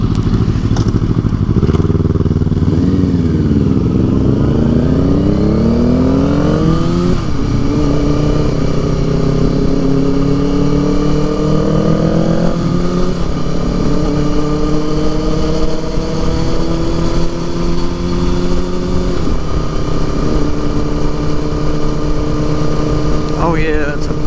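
A motorcycle engine drones steadily throughout a ride, rising and falling in pitch as it shifts and accelerates, with constant wind rush filling the background.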